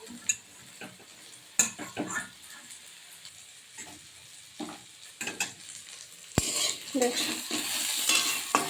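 A spatula scrapes and stirs through tomatoes softening in oil in a pan with scattered clacks, and a soft sizzle swells louder toward the end.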